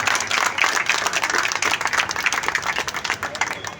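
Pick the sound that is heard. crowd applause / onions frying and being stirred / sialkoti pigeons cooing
crowd applause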